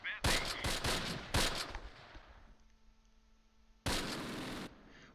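Machine gun fire in the tactical game Close Combat: Panthers in the Fog, St. Barthelemy map, comes as loud, dense bursts. Two come close together early on, then a quieter stretch, then a final sustained burst.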